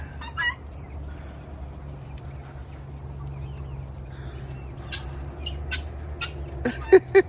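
Guinea fowl and chickens at a laying hen farm cluck and call intermittently, with a few sharper squawks near the end over a low steady hum.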